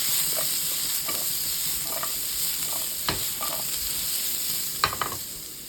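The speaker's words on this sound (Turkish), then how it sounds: "Kabakları da biraz çeviriyoruz." Zucchini and onions fry in a pan under a constant hiss of oil, while a utensil stirs them in a series of sharp scraping knocks at irregular intervals, close and clear.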